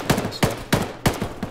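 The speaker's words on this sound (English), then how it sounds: "I just see his gunshot to the side" Gunfire in the video game Arma 3, Antistasi mode, on the map Kore: four sharp shots at a steady, rapid pace, each with a brief tail and no speech.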